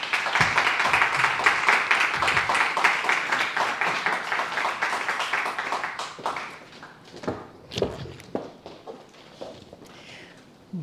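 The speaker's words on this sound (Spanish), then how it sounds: "Un aplauso para ella." Audience applause at a talk on the 1889 Paris Exposition gamelan, dense and steady clapping for about six seconds, then thinning to scattered claps and fading out.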